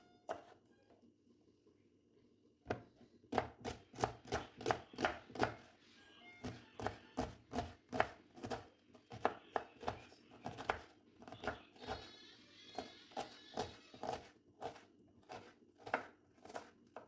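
Food being chopped into small pieces on a board with a knife while cooking quick chicken spaghetti: a brief quiet pause, then a fast, steady run of close, crisp knife taps that continues without talk.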